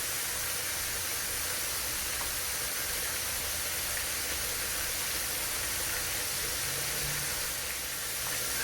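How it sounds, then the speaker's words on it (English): Steady hissing, bubbling boil from a pot of corn in milky water on the stove, a continuous broadband rush with no talking. "the corn is boiling"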